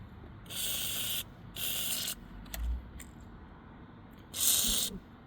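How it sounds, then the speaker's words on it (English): Short bursts of WD-40 hiss close up from an aerosol can onto the seat mounting bolts of a Dodge Grand Caravan, three even sprays followed by a faint clink and a final longer spray, with quiet surroundings. "So I will use a bit of WD-40 actually on all of them."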